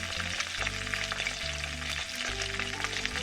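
A fish turned onto its other side keeps frying in a hot wok, giving a steady, close sizzle and crackle of oil that does not let up, with nobody speaking.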